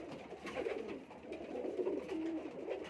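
Jaunsida and Sialkoti pigeons coo softly and repeatedly in a nesting loft, a low rolling burble close by, with faint background noise and no talking.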